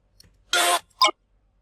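A chopped vocal sample in an electronic track, heard as two brief isolated vocal stabs, a longer one followed by a short clipped one, surrounded by silence.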